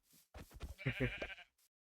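Minecraft sheep bleating in a village during gameplay, a faint wavering bleat that follows a brief soft sound and ends with a short tail in otherwise quiet game audio.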